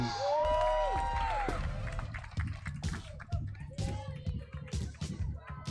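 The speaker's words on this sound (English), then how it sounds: "How about a round of applause?" Crowd applause for a Little League batter at a park closing ceremony, a sustained patter of clapping and cheering with a brief whistle at the start, voices mixed in throughout.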